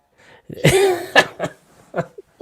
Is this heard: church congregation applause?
no